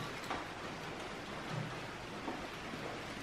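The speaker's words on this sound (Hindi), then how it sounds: "बारिश तेज हो गई" Rain falls steadily on a dark, overcast day in Sialkot, a soft, even hiss heard faintly at a distance with no voices.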